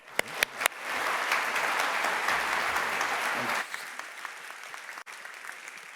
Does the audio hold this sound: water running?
no